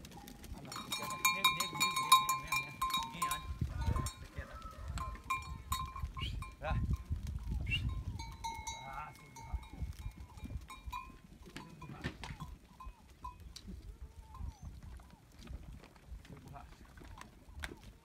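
Goats at a farm in the Bahian sertão give scattered bleats amid rustling, hoof sounds and occasional metallic clinks, while a person nearby talks and calls to them.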